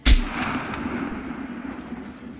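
A single sharp gunshot cracks at the start, followed by a long echoing rumble that fades slowly; game-style gunfire heard alone.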